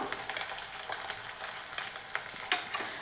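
Sliced radish sizzling in hot oil with popped mustard seeds in a pan, a steady close fry with light crackles and a couple of sharper pops.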